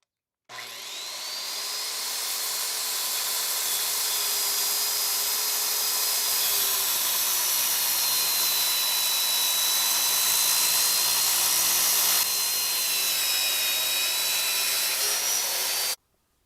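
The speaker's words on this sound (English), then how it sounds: "I'll probably have to use my crappy miter saw to get rid of that 5/8 all the way across here" A miter saw cuts through a reclaimed wooden beam, a loud, close, continuous high whine that holds steady for about fifteen seconds before stopping abruptly, with no talking.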